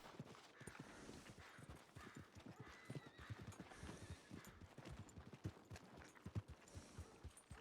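Steady clip-clop of the white horse Crescendo's hooves in a video game, with a brief whinny, close and continuous, no talk over it.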